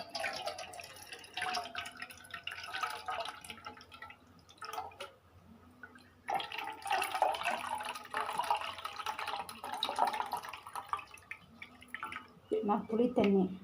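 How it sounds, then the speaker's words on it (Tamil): Tamarind is squeezed by hand and dissolved in water for a curry, giving soft, wet squelching and dripping sounds that come and go. A voice talks over much of it. "புளியை நல்லா வந்து கரைச்சிக்கணும் கரைச்சி புளி தண்ணியை தனியாக இழுத்து வச்சுருவோம்"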